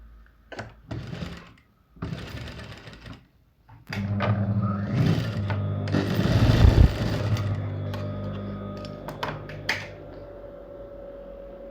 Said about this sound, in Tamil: இதை மட்டும் எக்ஸ்ட்ரா வச்சுட்டு இப்படியே ஃபோல்ட் பண்ணுறோம். அதாவது பேக் சைடு ஃபோல்ட் பண்ணுறேன். இந்த இருக்கா, இப்படி ஃபோல்ட் பண்ணிவிட்டு தைச்சி காமிக்கிறேன்